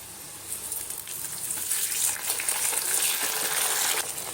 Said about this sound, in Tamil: நல்லா வதக்கிக்கோங்க. இதோட நம்ம உப்பில் ஊற வச்ச மாங்காய் சேர்த்துடலாம்.